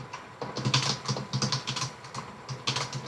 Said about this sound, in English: Oops, if I could type.